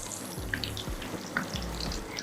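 Kaari kebabs deep frying in hot oil, giving a steady, dense bubbling sizzle close by, with a few low knocks and bumps underneath.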